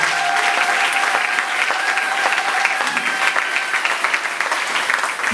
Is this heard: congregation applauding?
yes